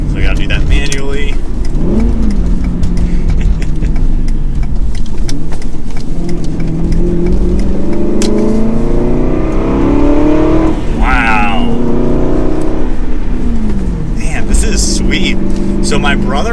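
Aston Martin Vantage GT with a V8 and manual gearbox revving and accelerating through gear changes, a loud continuous engine note that rises and falls, with a voice talking over it from inside the car.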